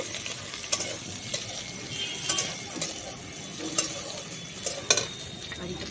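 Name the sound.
frying curry leaves and onion in pan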